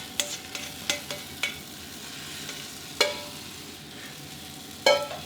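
Beaten egg mixed with climbing wattle poured into a hot pan, frying with a soft steady sizzle broken by a few sharp scrapes and clicks from a utensil.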